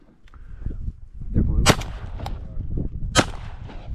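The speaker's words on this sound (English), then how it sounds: "Well, you gotta keep shooting then." Two loud shotgun blasts go off during a duck hunt in California, about 1.5 seconds apart, close and sharp, with people talking and moving around them.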